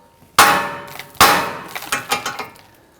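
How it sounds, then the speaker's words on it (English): Two sharp, ringing metallic hammer blows on the steel steering knuckle of a Volvo XC60, followed by a few lighter clanks and taps. "Now we're going to use our hammer. We're going to strike the knuckle here."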